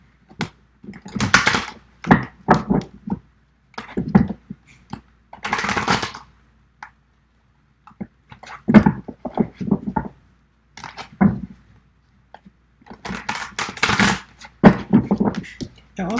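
Gaian tarot cards being shuffled by hand: repeated quick riffles and papery slaps in irregular bursts, close and clear, with short pauses between handfuls.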